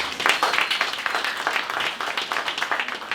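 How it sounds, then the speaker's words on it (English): Applause from a gathered crowd at an outdoor ribbon cutting ceremony for an active adult center, a dense, lively burst of many hands clapping, close and steady for a few seconds without speech. "Let's give them a round of applause."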